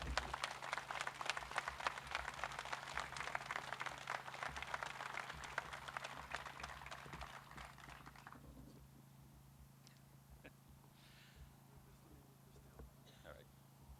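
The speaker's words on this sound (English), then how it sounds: "Give Andrew a big round of applause, everyone." A crowd at a veterans' PACT Act news conference claps in a dense, sustained burst of applause for several seconds before it fades to a quiet room with scattered sounds.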